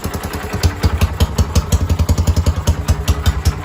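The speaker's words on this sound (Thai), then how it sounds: "เอามือทบท่อให้ฟังเสียงเครื่องครับ" A modified Honda Sonic 125 motorcycle engine runs with a hand held over the exhaust, producing a loud, close, rapid throbbing pulse of chugging exhaust beats.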